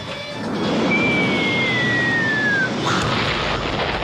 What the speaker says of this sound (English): Boom! Michael Bay explosion!